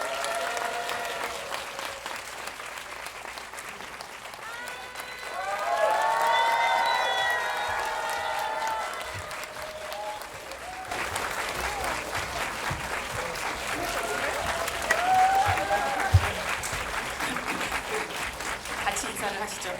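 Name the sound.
audience applause welcoming film director and cast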